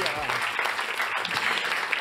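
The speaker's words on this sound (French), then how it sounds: "Je vais les applaudir." Applause at the Les Talents de l'Assurance 2025 ceremony, a loud, even patter of many hands clapping continuously with a faint voice early on.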